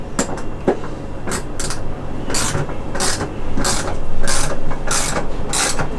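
A toy ratchet noisemaker being spun in bursts, about a dozen sharp clattering rattles, close and loud in an irregular rhythm over a busy room background.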